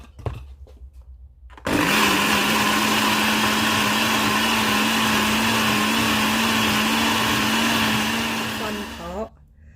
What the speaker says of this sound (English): So now I'm going to blend.